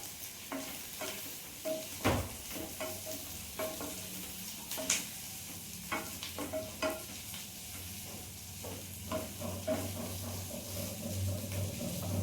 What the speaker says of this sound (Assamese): সিজোৱা আলু দিয়াৰ পিছত এইখিনি অলপ সময় মই ভাজিম।